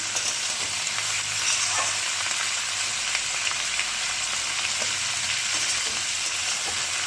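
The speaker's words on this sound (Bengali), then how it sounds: "আমি দুই তিন মিনিট ভেজে নেব হাই ফ্লেমে" Parboiled figs frying in oil over a high flame, a steady broad sizzle with faint crackles that holds evenly and fairly loud throughout, with no voices.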